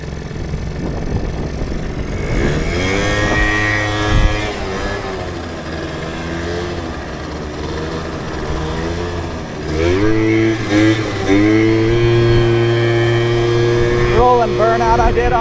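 A 2001 Yamaha Zuma scooter engine revs hard during a wheelie, its buzzing note climbing and falling in pitch, loud and close, with a second rise near the end.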